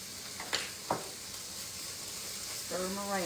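Ingredients with red pepper flakes sizzle quietly in a frying pan for an Italian pasta dish, a soft steady hiss broken by a few utensil clicks and a brief voice near the end.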